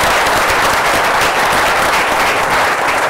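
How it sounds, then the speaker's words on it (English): Loud, dense applause from a conference audience after a panel discussion, sustained and uniform for the whole stretch, close and full, with no speech over it. "Please join me with a big applause"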